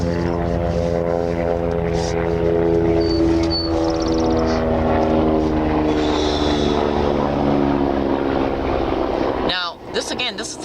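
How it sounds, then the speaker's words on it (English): A helicopter passes overhead, a loud steady rotor and engine drone with strong low harmonics holding for about ten seconds before cutting off abruptly, with brief speech at the end. "let this helicopter go by"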